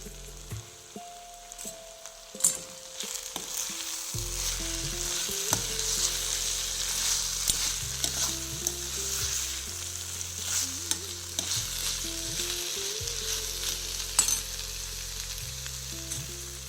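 Patta gobi (cabbage) sabji with fresh coriander is stirred in a pan, making a loud, continuous sizzle and frying crackle with repeated scraping stirs close by, with no voices.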